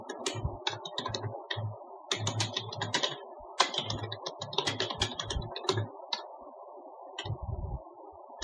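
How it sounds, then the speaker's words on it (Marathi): Fingers type a business letter on a computer keyboard, quick irregular bursts of close, crisp key clicks with short pauses and occasional heavier thumps, with no talking. "आपल्याला एंटर मारून सगळं टाईप करून घ्यायचं जशाला तसं."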